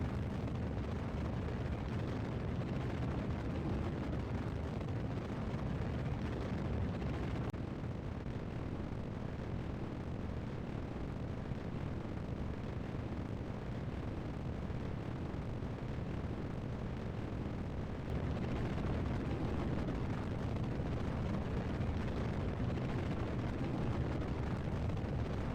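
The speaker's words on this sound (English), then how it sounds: "The rocket goes past the speed of sound at 49 seconds." A rocket roars during ascent after launch: a steady, heavy, low rumble that fills the whole stretch without a break, with no voices over it.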